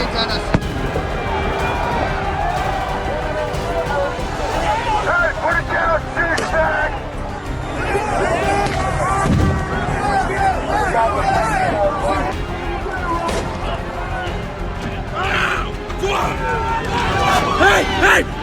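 Grenade-like blasts and cracks go off amid a dense, shouting crowd during the January 6 riot, sharp bangs punctuating the constant roar of voices.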